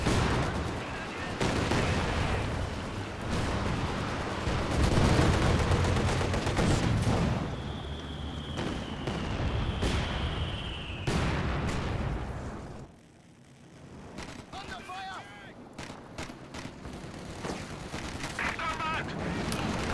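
Mortar and artillery fire sounds in the World War II strategy game Company of Heroes 2 during a 2v2 match. Dense booming explosions and gunfire rumble under a commentator's voice and ease into a quieter stretch near the end.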